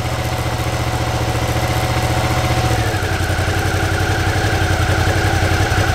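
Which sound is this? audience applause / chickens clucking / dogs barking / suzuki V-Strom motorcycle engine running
suzuki V-Strom motorcycle engine running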